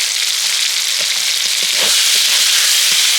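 Ground spice masala of turmeric, Kashmiri and regular red chilli, cumin and coriander powders frying in a pan, a loud dense hiss with a few faint stirring knocks, no talking.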